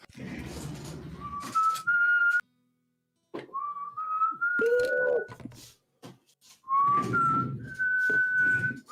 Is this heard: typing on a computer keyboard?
no